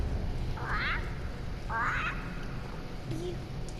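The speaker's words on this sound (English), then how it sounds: "These are the crows." Two harsh, rasping caws from crows in the Dark Souls 3 video game, each under a second and spaced apart, heard over a steady low ambient drone.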